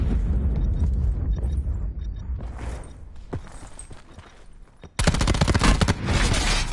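Gunfire in the battle royale mode Blackout of the video game Call of Duty Black Ops 4, with a few scattered sharp cracks amid game noise, then a sudden loud rapid burst of shots near the end.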